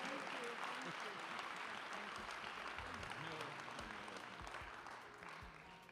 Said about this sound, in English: A big hand of applause for Josephine.